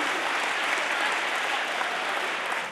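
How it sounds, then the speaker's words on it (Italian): An audience applauding fourth-year high school students at an awards event, a steady, moderately loud wash of clapping that cuts off at the end. "Un forte applauso ancora ai ragazzi di quarta liceo."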